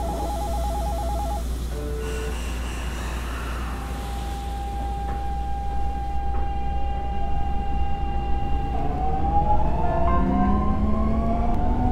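A metro train on Line 15 pulls away from the station after its doors close, with a steady low rumble, a sustained motor whine that holds and then rises in pitch as it accelerates, and chime-like tones near the start.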